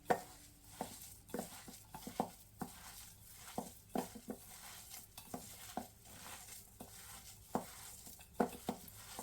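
Vada batter with onion and salt being mixed by hand in a bowl, giving soft wet slaps and squelches in an irregular rhythm, close and fairly quiet, with no talking.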